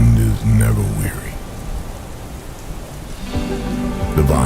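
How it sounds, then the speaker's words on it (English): Steady rain falling, a continuous hiss of drops heard beneath a person reciting poetry, with the rain louder than the voice in places. "It rains, and the wind is never weary."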